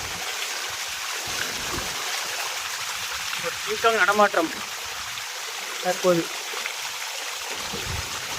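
Stream water rushes and trickles steadily at a hidden trekking spot in Dharmapuri, a continuous broadband wash, with a voice speaking briefly over it twice.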